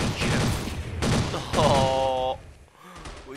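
Rapid bursts of gunfire in the shooter game Blood Strike, three loud volleys in quick succession with a voice speaking over them and a brief quieter pause at the end.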